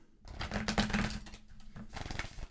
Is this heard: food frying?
no